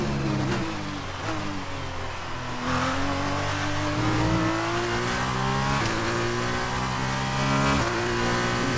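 Open-wheel racing cars in the F1 2019 game rev hard as they pull out during an F2 2019 championship race. The engine whine climbs and drops with each gear shift, staying loud and sustained with no talking.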